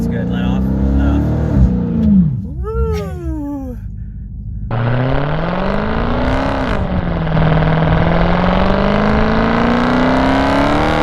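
Dodge Hellcat engine revving hard, its rising and falling drone loud and continuous under excited voices urging more throttle, with a brief lull before the revs climb again.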